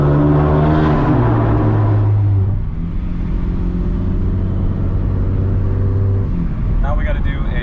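A boosted Acura TL Type-S makes a wide-open-throttle pull, engine drone rising and then holding steady, loud and close inside the car, with a brief change near the end.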